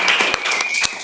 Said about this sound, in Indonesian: Kita beri tepuk tangan teman-teman.